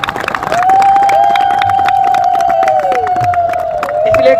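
Rhythmic crowd clapping and cheering among pilgrims at Mayapur, with a long sustained horn-like tone held over the claps and shouts; loud, close and continuous.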